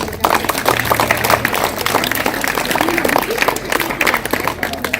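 An audience at a school convent event claps loudly for its teachers, a dense, continuous burst of applause from a crowd with some voices mixed in.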